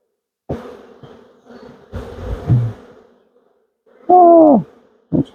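Honey bees buzz around hive frames in a farm apiary: close, intermittent droning with a short, loud, pitch-bending buzz from a bee passing near, mixed with faint handling knocks and no talk.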